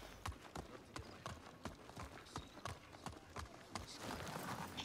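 A horse's hooves clip-clop steadily on hard ground in a video game, with an even trotting rhythm of sharp, close hoof strikes for about five seconds and faint ambient noise underneath.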